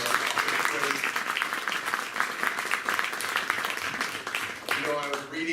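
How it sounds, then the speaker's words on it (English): An audience at a university Constitution Day lecture gives sustained applause, a thick, even wash of many hands clapping that carries on loudly and then tapers slightly at the end. "Let's give another round of applause."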